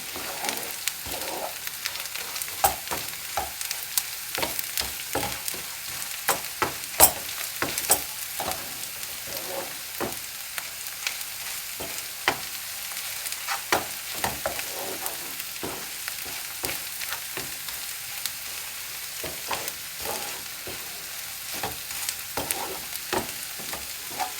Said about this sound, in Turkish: Ve biraz kokusu çıkıncaya kadar kavuruyorum